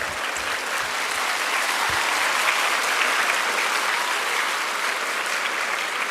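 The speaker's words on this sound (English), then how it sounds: "Thank you for that big round of applause for me" A large audience at a Gonzaga Day 2023 event claps in a dense, sustained round of applause, steady and loud throughout with no break.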